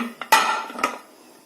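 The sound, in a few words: removing the gasket from a pressure cooker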